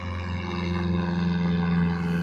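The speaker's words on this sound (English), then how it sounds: "I'm right beside the airport, the downtown Billy Bishop Airport, so I don't know how loud these planes are." An airplane flying near Billy Bishop Airport in downtown Toronto gives a steady, fairly loud drone with a strong low hum. It holds constant throughout with no talking.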